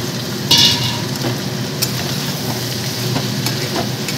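Boiled rajma beans tipped into cooked-down frying masala and stirred, a loud close hiss and sizzle that flares as they go in, with scraping stirs and a few clinks, no one talking.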